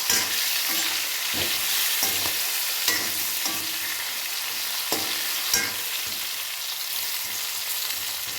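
Frying brinjals sizzle loudly in a pan as masala and turmeric are stirred in, the steady hiss broken by several sharp clacks and scrapes of the stirring spoon, with no voices.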